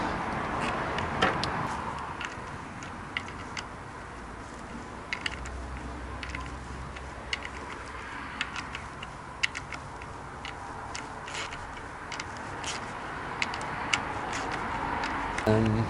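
A torque wrench tightens down an engine plate on a Triumph Speedmaster motorcycle, giving faint, scattered ticks and small metallic clicks over a low workshop hum, with no clear voice.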